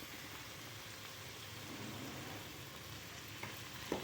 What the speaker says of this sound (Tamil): இதை கொஞ்சம் ஒரு 5 நிமிஷம் நல்லா வதக்கணும்